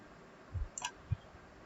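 A computer mouse clicks while making selections in Photoshop: three short, quiet, dry clicks spaced unevenly, alone with no talk.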